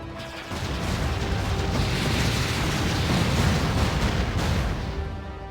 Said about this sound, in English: Our flight was great fun. Lots of explosions.